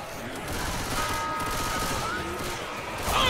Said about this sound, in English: Where the hell you're shooting?